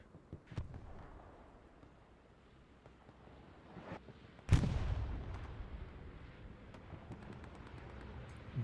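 Defensive artillery shells land on a capture point on Utah Beach in the Hell Let Loose video game, a few distant thuds followed by one loud booming blast at mid-clip that rumbles away slowly.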